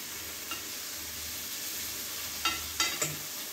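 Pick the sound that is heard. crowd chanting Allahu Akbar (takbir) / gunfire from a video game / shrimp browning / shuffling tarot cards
shrimp browning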